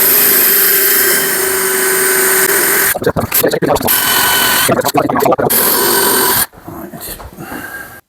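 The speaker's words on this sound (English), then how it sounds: "then we're just going to drill our holes." Bursts of a power drill whirring in short runs, with gaps between, close by, over a steady background hum, drilling holes while installing a shower cubicle.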